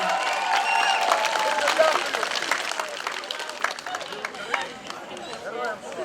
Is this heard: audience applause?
yes